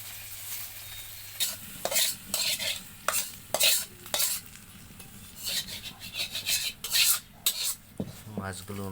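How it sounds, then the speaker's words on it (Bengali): A metal spatula stirs and scrapes tilapia frying in oil in a pan, repeated bursts of scraping and clatter over a low continuous sizzle, close and fairly loud, with no talk. "মাছ ভাজাটা হয়ে গেছে"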